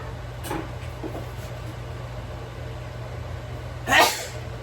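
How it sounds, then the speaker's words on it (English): A single quick sneeze bursts out near the end, loud against a low steady hum and faint background noise. "I knew I had a sneeze in me."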